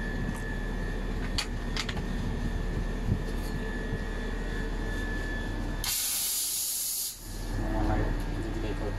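A coffee machine steam wand froths fresh milk in a coffee shop, with a loud, bright hiss that bursts in for about a second near the end. A voice talks over low background noise before it.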